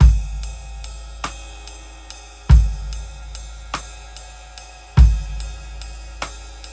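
A drum kit plays a lilting traditional 6/8 worship groove, a heavy kick and crash landing every few seconds with light cymbal taps ticking between them.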